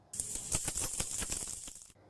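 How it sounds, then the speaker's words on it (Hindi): Metal coins clink and jingle together in a bright, continuous shower of small tinkling hits for about two seconds, fairly faint, with no voices. "रुपए या पैसा खनकना"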